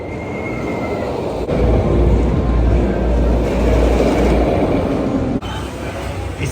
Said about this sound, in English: They've been having trouble with this train right here, so Brandon's stuck.